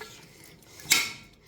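A utensil scrapes and clinks against a metal pot while mutton pulao is mixed, a single sharp stir sound rising briefly over quiet kitchen background.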